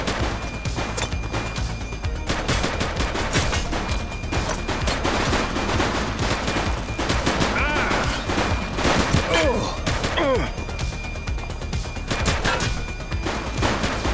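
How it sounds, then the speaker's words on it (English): Gunshots ring out in the police game The Precinct, a loud continuous fusillade of rapid automatic fire and overlapping shots mixed with crashes and sirenlike whines, with a voice briefly audible. "Shots fired!"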